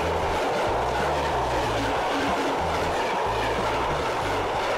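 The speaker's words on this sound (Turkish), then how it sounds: "Yavaş yavaş gidiyor tren." A train rolls slowly and steadily past a level crossing nearby in Belemedik, Turkey, its wheels clacking in an unhurried rhythm over a constant rumble.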